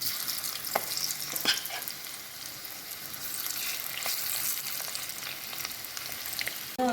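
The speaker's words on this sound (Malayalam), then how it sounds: "എണ്ണ തിളച്ചിട്ടുണ്ട് നമുക്കിതിലോട്ട് ഫ്രൈ ചെയ്തെടുക്കാം കുറേശ്ശെ ഇട്ട് ഫ്രൈ ചെയ്തെടുക്കാം" Squid pieces fry in hot, bubbling oil with a steady, quiet sizzle that runs the whole time, broken by a few light crackles and a clink near the end.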